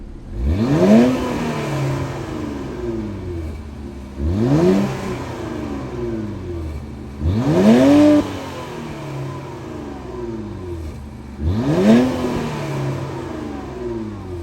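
A 2023 Infiniti Q50 Red Sport 400 AWD engine revs four times, each rise in pitch followed by settling back to a rumbling idle, heard nearby.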